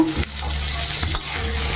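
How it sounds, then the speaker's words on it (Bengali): Pointed gourd fries in a pan with a steady close sizzle, broken by a few soft stirring scrapes. "পটল ভাজাটা চাপিয়ে দিয়েছি"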